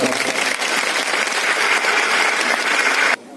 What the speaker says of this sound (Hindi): आप ताली बजाकर इनका स्वागत।